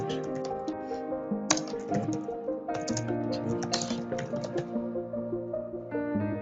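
Computer keyboard keys are typed on during work in CorelDRAW, with soft clicks scattered under a steady musical background that plays throughout.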